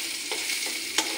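Chopped onions sizzling lightly in a pan with cardamom, cinnamon and cloves, a close steady frying hiss with a few soft stirring scrapes and one sharper clink near the end.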